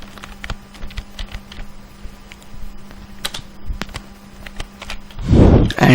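Rapid, uneven clicks of C++ code being typed on a computer keyboard, close and fairly steady over a faint background hum, ending in a louder burst of rustling noise.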